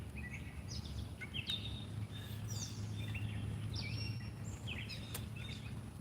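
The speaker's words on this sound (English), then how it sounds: "listening to the birds talking to one another" Birds chirp and sing outdoors at a summer solstice gathering, with short, scattered calls at a moderate distance over a steady low background hum.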